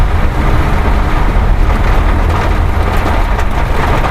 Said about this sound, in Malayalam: നല്ല രസമുണ്ട് മഴയത്ത് ഇങ്ങനെ യാത്ര ചെയ്യാൻ വേണ്ടി